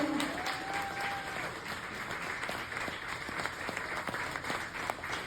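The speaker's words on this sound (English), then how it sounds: "let's give a big round of applause for my husband and Alan and Amber in the kitchen" An audience at a ranch gathering claps steadily for the kitchen staff, a dense, continuous applause with a few sharper individual claps standing out.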